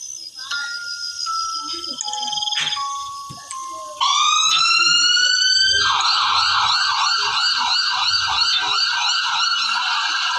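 A loud ambulance siren cycles through rising and falling wailing tones, then switches to a fast warbling yelp, continuous and close with no talking.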